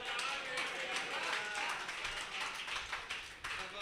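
Audience clapping at a Hindi political speech, a dense, steady patter of many hands filling the whole stretch at moderate loudness, with crowd murmur blended in.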